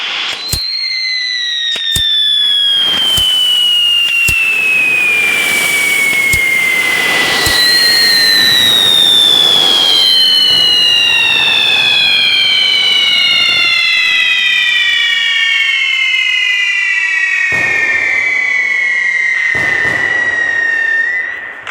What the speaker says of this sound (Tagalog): Ay, paputukan na natin.